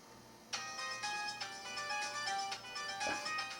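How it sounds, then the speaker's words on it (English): A mobile phone ringtone plays a bright, repeating melodic pattern of chimes that starts abruptly and loops several times, fairly loud and close, with no talking over it. "That's my phone."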